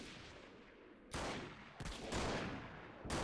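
Gunfire in the video game Freeman: Guerrilla Warfare during the Siege of Zinkov, with several loud sharp shots over a hissy battle ambience, some of them close together.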